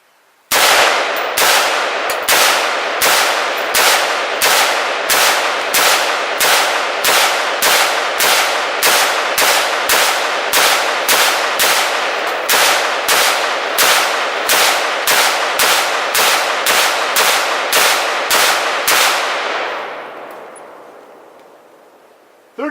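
Thirty rounds of armor-piercing rifle fire hit a ballistic barrier, heard as a long, evenly paced series of loud, sharp gunshots that ends in a fading echo.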